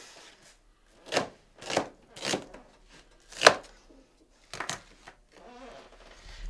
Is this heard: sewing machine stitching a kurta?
no